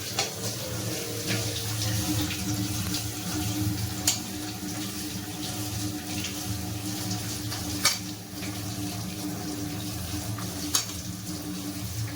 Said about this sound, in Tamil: இப்போ நான் இதை வாஷ் பண்ணி எடுத்துக்கிறேன்